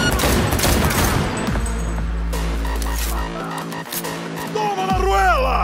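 Rapid gunfire crackles through a video game shootout with bursts of shots over a steady low rumble, ending in swooping electronic effects, all loud and close.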